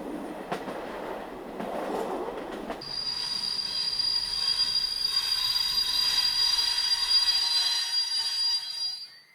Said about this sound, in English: The train disappears into a tunnel beneath it, and on the other side it pulls up in Aesch station.